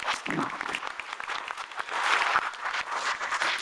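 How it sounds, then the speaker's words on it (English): Audience applause at a breakfast fundraising event, a dense, steady burst of clapping from a roomful of people that swells slightly louder toward the end and fills the clip on its own. "let's give Erica a round of applause for her service"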